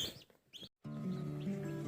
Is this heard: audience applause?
no